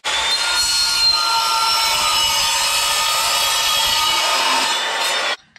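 Power saw cutting legs for a car camper bed, one steady loud continuous cut lasting about five seconds and stopping abruptly, with no other sounds.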